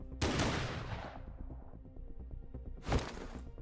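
Gunfire in the video game Snowbreak: two loud, sharp shot bursts about two and a half seconds apart, the first trailing into a ringing decay, with no talk.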